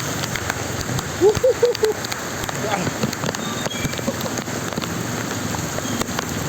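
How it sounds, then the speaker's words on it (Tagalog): Heavy rain pours down in a steady, dense hiss, with a brief voice cutting through partway. "napakalakas ah, ng ulan"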